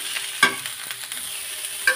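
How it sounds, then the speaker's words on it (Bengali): Amaranth greens stir-fried in hot oil with black cumin, a steady soft sizzle broken by a few sharper scrapes of the spatula against the pan, close and alone. "আমি কিছুক্ষণ কিন্তু এরকমভাবে ভাজি করে নিলাম, একটু নাড়াচাড়া করে।"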